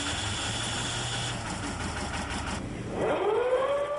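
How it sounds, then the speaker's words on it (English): Engine of a totally enclosed ship's lifeboat, a steady hum that shifts partway through and then rises into a rising whine as it revs up, heard close and fairly loud. "The coxswain then straps himself in and starts the engine."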